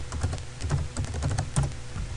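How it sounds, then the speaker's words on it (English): Rapid clicking keystrokes on a computer keyboard, close and fairly loud, with an uneven typing rhythm that runs steadily for a couple of seconds. "Type your default gateway into your web browser,"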